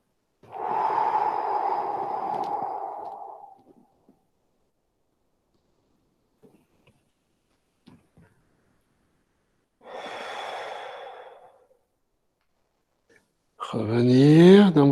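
Deep breathing during a qi gong exercise: a long, slow inhale near the start, silence, then a second drawn breath, with a voice beginning at the end.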